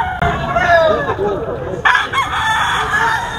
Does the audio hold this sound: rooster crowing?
yes